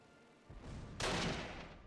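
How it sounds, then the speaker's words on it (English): Mortar fire in the WWII tactical game Close Combat, a sudden loud burst of gunfire-like blasts cutting in after a quieter rumbling lead-in, sustained and fairly close. "the mortar's going out here"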